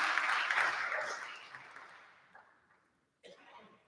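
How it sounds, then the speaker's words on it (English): Applause for volunteers standing up at a talk on temperaments, a dense roar of clapping that is loud at first and dies away over about two seconds, followed by a brief faint murmur and a chuckle. "round of applause for our sanguine superheroes"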